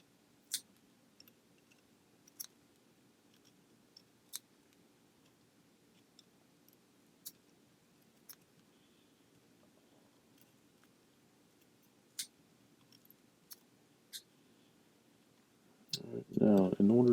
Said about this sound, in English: start trimming my scrap out of the way.